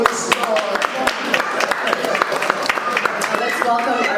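A church congregation at a Sunday service applauds to welcome a maestro, with scattered, uneven clapping running beneath voices and a lively room murmur.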